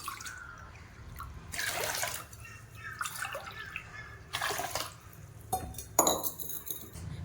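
Water splashes and trickles over rice in a vessel in several pours, with occasional clinks of a metal cup against the pot.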